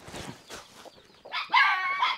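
Chickens cluck while being fed corn on a rural farm, a few scattered noises first and then a louder burst of clucking close by, with no talk over it.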